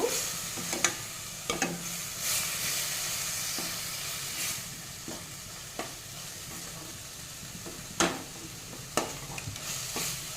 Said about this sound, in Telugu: లైట్గా వాటర్ వేసుకుంటూ ఇలా ఫ్రై చేసుకోవాలి